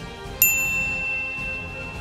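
A single bright notification bell ding for a subscribe reminder strikes once and rings out with a clean, sustained shimmer over a quiet background bed.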